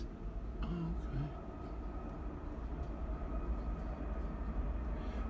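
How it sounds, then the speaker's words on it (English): A train going by near Melbourne, Florida: a low, steady rumble with faint rattling, heard from a distance at low level, with faint voices in the background. "I love the sound of trains going by."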